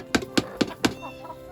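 A hen clucks four times in quick, even succession, fairly close, followed by a few softer trailing clucks.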